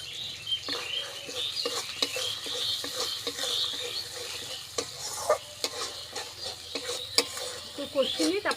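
Ground spice paste sautéing in a pan for a pabda fish jhal, with a soft continuous sizzle and regular scraping stir strokes at close range, fairly quiet overall.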